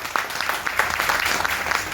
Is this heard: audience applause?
yes